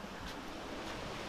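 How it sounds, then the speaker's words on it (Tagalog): Floodwater rushing through a flooded rural Philippine area, a steady, dense, broadband roar like surf that stays constant and fairly loud throughout without pauses. "talagang nagbabahaan na po dito sa amin"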